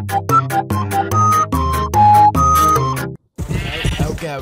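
Minecraft goat bleats in a quick run of short, harmonic, music-like calls over about three seconds, loud and close, followed by a burst of rougher noisy sound after a brief silence.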